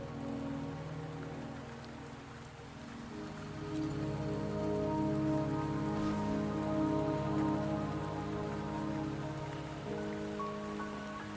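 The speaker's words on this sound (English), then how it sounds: "The rain won't last much longer." Steady rain falling in the video game Wuthering Waves, a soft continuous patter on surfaces beneath a sustained musical score, even throughout and slightly swelling midway.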